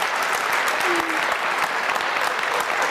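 An audience claps steadily after a talk, thick continuous applause filling the room at an even level, with a brief faint voice briefly underneath.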